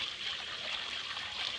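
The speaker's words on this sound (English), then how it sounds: "put that water in there for them." Water pours steadily into a pan during a hot-weather chore, a continuous close trickle and splash that runs the whole time with no talk over it.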